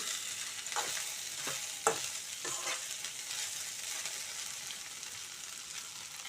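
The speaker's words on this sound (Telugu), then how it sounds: "ఇప్పుడు సగం వేగిపోయాయండి బెండకాయ ముక్కలు." Okra pieces stir-frying in a pan give a steady bright sizzle, broken by a few sharp scraping strokes of a spatula in the first half, close and fairly loud, with no one speaking.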